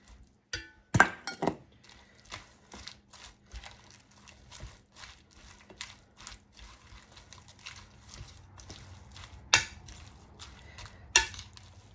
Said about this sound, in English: I'm just going to mix this right in toss this all together